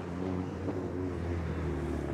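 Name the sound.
car passing by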